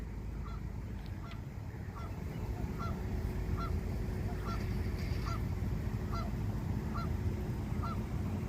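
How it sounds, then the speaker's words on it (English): Waterfowl calling outdoors, a regular series of short honking calls about every half second, moderately distant over a low rumbling background, with no talk. "Oh, the little ducks can't get up."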